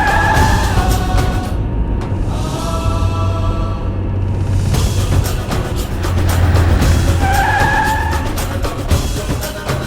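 A car drives fast with tyres skidding, set under dramatic music in a TV drama scene; the loud, continuous engine and tyre noise lasts the whole stretch.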